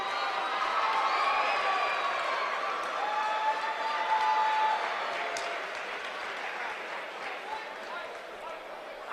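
A near-capacity basketball crowd at the Frank R. Williams Activity Center cheers and claps in a sustained roar, loudest early and easing slightly, with an announcer talking over it.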